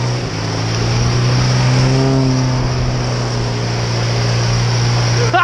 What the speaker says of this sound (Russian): Попробует проехать москвич на резине с цепями